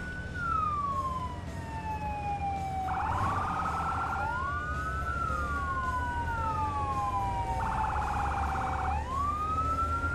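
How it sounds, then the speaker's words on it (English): A fire engine siren in the Firefighting Simulator video game wails in a steady rising and falling cycle, broken twice by a harsh electronic yelp burst, loud and continuous with no speech. "Yeah, we need a better siren for sure."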